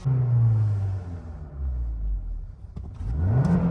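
A tuned Tata Nexon and a stock Suzuki Baleno at a drag race start, with engines revving loud and close, pitch dropping through a gear change and climbing again as the cars pull away together.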